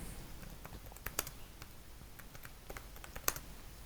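Computer keyboard typing while dummy details are entered into an online Serbia e-visa application form, quiet, uneven clusters of soft key clicks with a few sharper, louder taps standing out, no talking.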